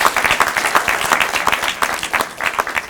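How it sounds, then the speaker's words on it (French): A contest audience applauds its finalists with sustained, dense clapping from a full crowd for several seconds, steady and close, with no speech over it. "je pense qu'on peut vous applaudir à nouveau"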